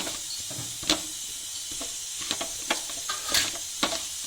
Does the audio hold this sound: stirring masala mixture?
yes